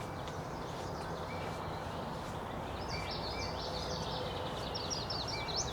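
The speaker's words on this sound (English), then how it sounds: "Definitely some warblers still singing in here." Warblers singing at a spring birding festival, rapid high chirping phrases repeated over steady broadband background noise, moderately distant and fairly faint.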